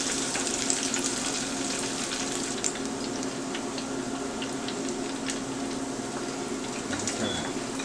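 Pork chops deep fry in hot oil with a steady, loud, close sizzle and crackle that runs without a break, plus a few faint clinks and pops and no talk.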